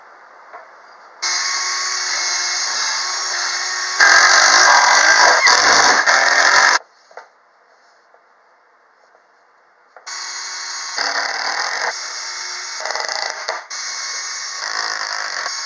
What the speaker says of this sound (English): We'll go ahead and put in some screws.